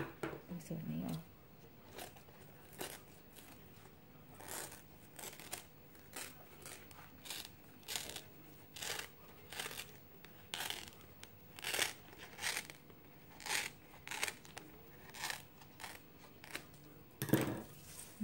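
Scissors snip repeatedly along the edges of banana leaf while folding a Thai baisri cone, a steady run of short crisp cuts with leaf crinkling, close up and fairly quiet, with no talk.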